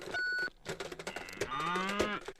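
Cows moo in a Chick-fil-A television commercial, with a couple of short lowing calls mixed among brief beeps and other commercial sounds.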